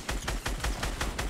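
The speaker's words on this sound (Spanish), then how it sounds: "Disparamos a la vez, No, disparo yo." Rapid gunfire in the battle royale video game Fortnite, a quick evenly spaced string of about seven loud close shots over a second and a half.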